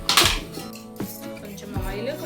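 A heated metal cooking pot on the stove, readied for Telangana-style bagara rice, clanks in three sharp metallic knocks spaced about a second apart, close and bright, with faint voices in the background.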